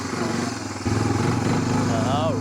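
A Honda Fourtrax 300 ATV engine runs at a steady idle close by, its even low chugging rising slightly in level partway through, with voices talking over it.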